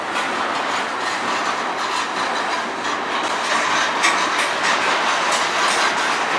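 A train rolls steadily past on the rails in Sarnia, Ontario, a loud, continuous rumble with faint rhythmic clatter of wheels over track joints and light squeal, close by.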